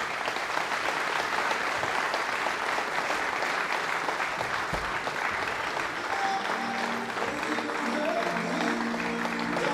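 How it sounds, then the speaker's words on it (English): Loud, sustained applause from a snooker crowd welcoming the reigning UK champion to the table before a match, with faint talk surfacing near the end. "a big round of applause to the UK champion"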